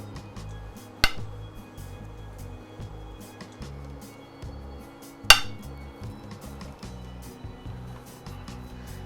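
Food pieces being arranged on a serving platter, with quiet clinks and shuffling and two sharper knocks of dish or utensil against the plate.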